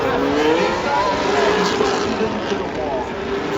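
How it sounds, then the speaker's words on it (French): Formula 1 McLaren race cars accelerating hard out of a corner, a loud continuous engine roar under fast commentary. "Great exit by Norris. He's going to try to go and pass."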